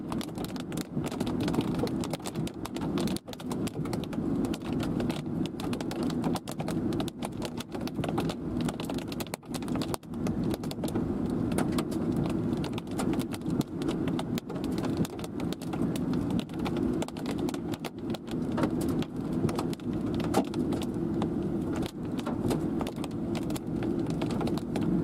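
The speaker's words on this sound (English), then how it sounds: "Decent sized hailstones again." Hailstones falling during a supercell thunderstorm in Montana, a dense, continuous rapid patter of hard impacts, as if hitting a vehicle, close and loud for the whole stretch.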